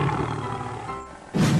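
A tiger roars in a cartoon animal game, a rough sustained roar under busy backing sound, ending in a louder burst at the close.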